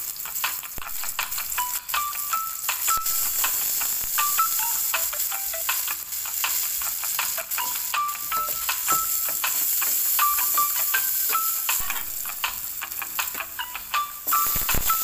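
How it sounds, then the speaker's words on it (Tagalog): Garlic sautés in melted margarine in a frying pan, a constant close sizzle and hiss with bright crackling pops throughout. Music plays softly underneath. "Bago natin igigisa ang bawang hanggang maging golden brown."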